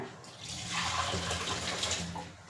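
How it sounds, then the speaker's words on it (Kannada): Tap water runs steadily into a bath, a continuous close rushing hiss that holds level for the whole stretch and ends with a sharp knock. "ಆಲ್ರೆಡಿ ಸ್ನಾನಕ್ಕೆ ನೀರು ತಾರೈತೆ"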